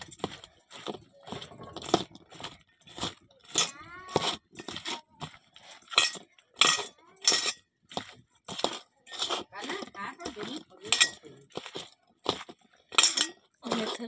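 Okra is tossed with salt, turmeric, chili powder and onion in a bowl, giving irregular crunchy clinks and scrapes of utensils, close and moderately loud, while someone talks throughout.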